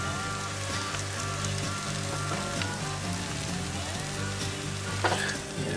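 Eggs fry in a Blacklock cast-iron skillet with a steady, dense sizzle and crackle that runs unbroken throughout, fairly close and alone, with a brief sharper pop of spatter near the end.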